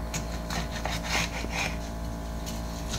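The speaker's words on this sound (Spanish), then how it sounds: "Y ahora vamos a partir el chile." A knife cuts a chile pepper in half on a cutting board while tamales de rajas are being made, giving short, close scraping and slicing strokes in a quiet kitchen.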